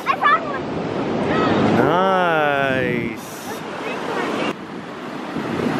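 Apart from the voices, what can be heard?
ocean waves on a beach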